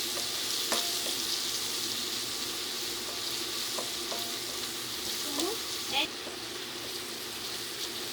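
Chili, cumin and coriander powders being stirred and sautéed in a pan for katla fish korma, a continuous even sizzle with scattered scrapes and clinks of the spoon, fairly quiet and steady throughout.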